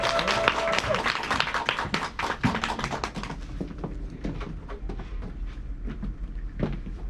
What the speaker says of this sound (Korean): 다이아몬드 곽중현 사장님을 큰 박수로 환영해 주십시오